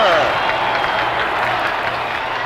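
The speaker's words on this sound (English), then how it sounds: "Listen to that crowd roar as the score is tied on a 3-run homer by Joe" A big baseball stadium crowd roars and cheers steadily after a game-tying three-run home run, a dense wash of noise from far off that fades a little.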